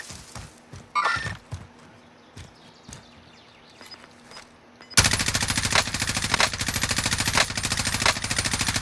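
Rapid automatic gunfire in Call of Duty Warzone, loud and sustained in dense repeated bursts during the second half after quieter game ambience with scattered shots.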